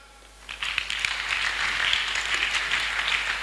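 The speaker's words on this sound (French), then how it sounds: "On acclame." A church congregation breaks into applause, a sustained wash of many hands clapping that starts abruptly and carries on steadily at moderate distance.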